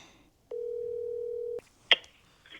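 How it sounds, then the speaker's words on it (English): A telephone gives one steady electronic beep lasting about a second, followed by a sharp click and a brief burst of handset noise, close and clear in a quiet room. "Of course I'm going to answer the phone."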